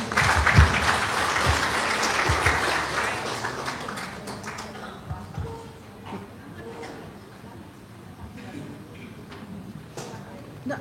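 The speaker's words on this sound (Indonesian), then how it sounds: "Tepuk tangannya." Audience applause at an Indonesian legal talk event, a loud burst of clapping that gradually thins and fades into scattered claps with faint voices.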